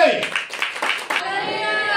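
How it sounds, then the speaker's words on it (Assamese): A congregation at a hallelujah church gathering claps hands loudly, a quick run of sharp, close claps lasting about a second before giving way to a sustained voice. "আমি জোৰকে তালি বজাই ঈশ্বৰৰ ধন্যবাদ কৰো"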